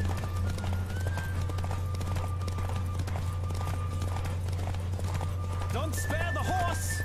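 Rapid rhythmic hoofbeats of a galloping horse during a race in the video game The Witcher 3 over a steady low hum, with a few brighter game sounds near the end.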